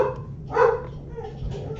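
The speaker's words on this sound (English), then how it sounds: "Sorry, that was my dog" A single dog bark rings out indoors at moderate distance, brief and muffled, then quiet room tone follows, with no talk.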